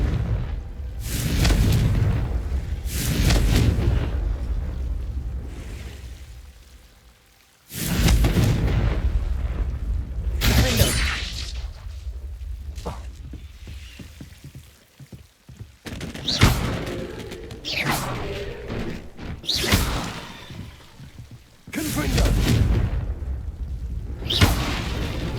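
Confringo fire spells from Hogwarts Legacy burst in a run of loud, booming explosions, each a sudden blast with a rumbling tail, spaced irregularly across the stretch with brief quieter gaps between them.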